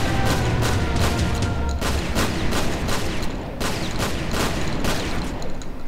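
Rapid, repeated heavy shotgun blasts from the video game Doom (GZDoom, Sigil), roughly one every half second, sharp and loud over a constant noisy background.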